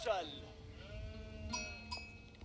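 In the Age of Empires 4 strategy game, a single wavering sheep bleat opens, then fades into a quiet background of soft in-game tones and faint chimes.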